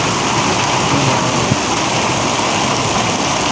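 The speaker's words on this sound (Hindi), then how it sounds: "बहुत ही ज़्यादा ओले हैं यहाँ पे और बारिश भी काफ़ी शदीद है यहाँ पे" Dense, steady roar of heavy rain pouring down, with a constant broadband hiss and a few faint sharper taps of hail mixed in.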